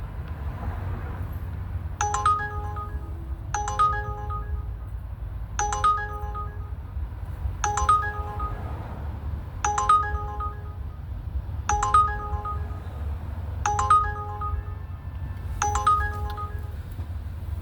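Repeating phone ringtone for an incoming ride request, a short chime pattern sounding about every two seconds, eight times, over steady low traffic and car rumble.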